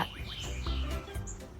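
A chicken near a curious dog, a few short chirpy clucks and calls over background noise.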